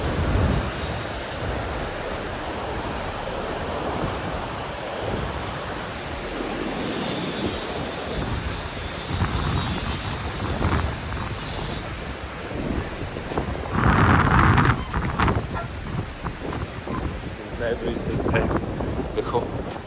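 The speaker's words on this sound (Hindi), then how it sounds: "आवाज़ सुन सकते हैं आप, कितना तेज़ फ्लो है।" Fast-flowing river water rushes loudly and continuously near the Turtuk area of Ladakh, a broad roaring wash with gusty wind buffeting the microphone and some indistinct voices mixed in.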